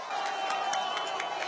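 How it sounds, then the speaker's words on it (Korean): A crowd at a Korean political party event claps steadily in welcome, a dense wash of close applause filling the whole short stretch with a few louder claps standing out. "박수로 환영해 주십시오."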